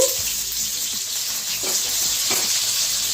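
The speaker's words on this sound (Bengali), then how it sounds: "একদম লাল করে ভাজবো।" Bitter gourd and other vegetables frying in oil for Bengali shukto make a steady, close sizzling hiss throughout, with no voices.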